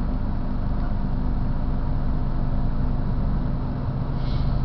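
A Metra commuter train pulls out of Lombard station on a winter day, its low steady rumble filling the scene at a constant level, with no voices over it.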